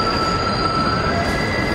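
Coney Island subway train brakes squeal loudly with a sustained high-pitched screech over a rumbling roar, close by and unbroken.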